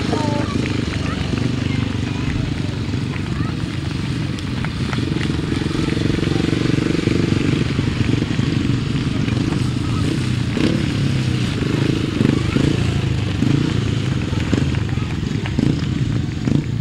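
Several grasstrack racing motorcycles roar steadily through a race heat at a 2007 summer event, a continuous loud engine drone rising and falling, with a public-address announcer faintly talking underneath.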